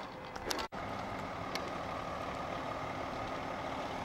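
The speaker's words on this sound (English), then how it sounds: "Got a fire truck or something." A fire truck idles in the street on emergency flashers, a steady low diesel rumble that holds constant, with a brief sharp clatter near the start.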